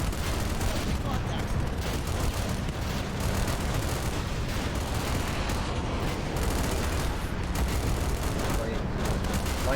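Battle sounds from Command and Conquer: Generals, with dense gunfire, rocket launches and explosions layered into a continuous loud barrage, with a voice talking over part of it.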